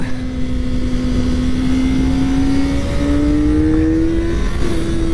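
A Kawasaki ZX-4RR motorcycle on a racetrack, its high-revving engine a loud, steady whine that climbs in pitch through the gears, heard from the rider's position under heavy wind rush.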